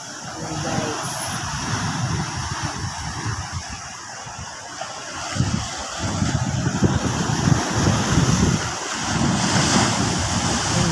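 Large waves left by Typhoon Kristine crash and roar against the shore, a continuous loud surge mixed with heavy wind noise on the microphone.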